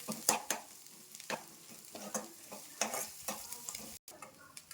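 Ginger paste with onions frying in a pan as it is stirred, with repeated close scraping strokes and crackling sizzle in an uneven rhythm and no voices.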